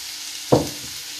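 Sliced zucchini tipped into a pan of gently fried onions, one sudden burst of sizzle that fades into a soft steady hiss, close and alone with no talk.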